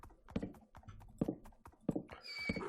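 Minecraft horses milling about in a pasture, with a string of soft clip-clop hoof steps, low snorts and a brief higher whinny near the end, heard close and fairly quiet.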